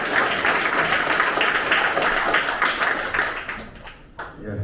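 A crowd at the dissolution ceremony of the Incheon election campaign committee in 2022 applauds warmly to welcome a speaker, with dense clapping that tapers off near the end before a brief pickup.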